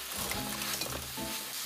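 Food stir-fries in a hot pan during home cooking for a birthday party, with a steady, close, loud sizzle and crackle and a few stirring scrapes throughout.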